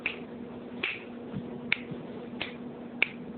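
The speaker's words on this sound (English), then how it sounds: "let's snap your fingers there for a minute" Fingers snap five times at an even, unhurried pace, each crisp click standing alone against a quiet room with no talking.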